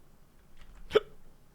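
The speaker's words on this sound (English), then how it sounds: "Hiccup. Excuse me." A single sharp hiccup from a person, close and sudden, preceded by a faint breath in an otherwise quiet room.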